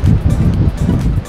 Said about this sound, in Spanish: El mar está un poco agitado por un fuerte frío que entró el día de ayer